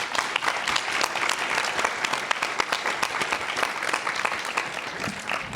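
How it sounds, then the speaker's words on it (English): Loud, sustained applause from an audience at a diversity discussion event, dense overlapping claps with no pause. "But give yourself a round of applause, too, for being here."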